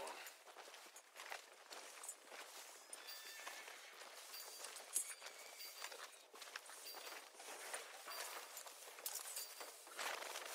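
Rhythmic horse hooves clip-clop steadily at a walking pace in the video game Red Dead Redemption 2, fairly faint and continuous, with talking over them.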